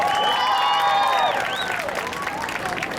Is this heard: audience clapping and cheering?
yes